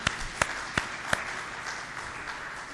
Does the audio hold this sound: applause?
yes